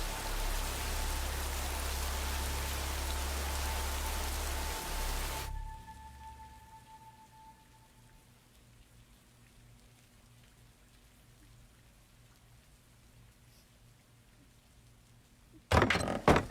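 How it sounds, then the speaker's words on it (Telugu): Steady rain hisses loudly for about five seconds, then cuts off abruptly to a quiet, near-silent background before a short burst of noise at the end. "వానేమో దూరంగా పడుతుంది"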